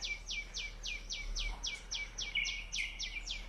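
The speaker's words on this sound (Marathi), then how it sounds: "आजूबाजूला सर्व पक्ष्यांचे आवाज येत आहेत" Birds chirp nearby around a temple in the Konkan countryside in the morning, in quick, repeated bright notes, a steady string of calls over a quiet background, with no talking.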